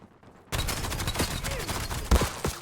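Video game gunfire in Genesis: after a quiet start, a steady fusillade of rapid shots and bursts fills the scene at close range, with one louder blast near the end and no talk.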